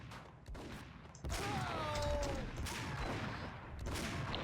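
Gunfire from a shootout with an enemy in the Max Payne video game, a dense sustained burst of shots and impacts over game noise, loud and continuous through most of the moment.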